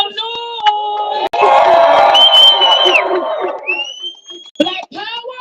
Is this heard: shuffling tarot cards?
no